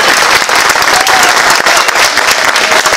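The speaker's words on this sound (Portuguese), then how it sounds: "Uma salva de palmas de pé." Loud, dense applause from a standing audience at an aquarium-keeping conference, continuous clapping filling the room throughout.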